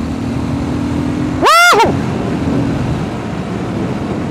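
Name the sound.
Triumph Scrambler 1200 XE motorcycle engine while riding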